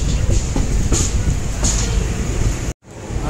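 A train running on rails in Kerala between Alappuzha and Ernakulam, heard as a loud, steady rumble with rhythmic clatter and squeal, close up, cutting out abruptly near the end.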